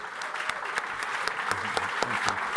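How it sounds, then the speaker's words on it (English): A standing crowd at a live show in Lisbon claps in a sustained round of applause, steady and fairly loud, with a few sharper nearby claps and faint voices underneath. "Give a big, big, big applause."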